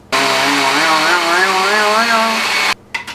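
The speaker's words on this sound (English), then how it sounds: "we're going to turn on our food processor" A food processor whirs at high speed through cilantro pesto ingredients, a loud, steady motor whine whose pitch wavers as the blades churn, then it cuts off abruptly.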